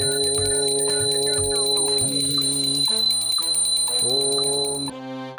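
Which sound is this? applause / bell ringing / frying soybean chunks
bell ringing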